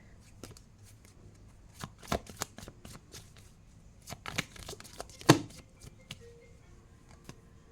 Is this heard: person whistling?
no